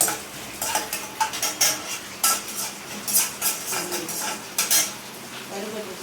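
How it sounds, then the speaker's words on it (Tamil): Chana dal and urad dal being dry-roasted in a pan, with repeated metal spoon scrapes and clinks against the pan in an uneven stirring rhythm, close and fairly loud, with a faint sizzle underneath. "கடலைப்பருப்பு உளுத்தம்பருப்பு கொஞ்சம் நேரம் வரட்டும், அது வரைக்கும் வறுக்கலாம்"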